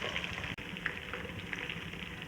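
Tomatoes dropping into hot oil with cumin and thick red chillies, giving a steady broadband crackling sizzle that runs throughout with a brief dip near the start, close and fairly quiet.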